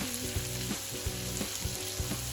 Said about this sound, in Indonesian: bawang merah, bawang putih ditumis harum sepenuh hati